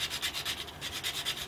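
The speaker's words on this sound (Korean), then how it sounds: "400번 사포가 조금 약간, 중간인데, 그래도 약간 굵은 편이거든요." 400-grit sandpaper rubs the tip of a homemade fishing float in quick back-and-forth strokes, a soft rhythmic scratchy hiss about six passes per second, close and alone.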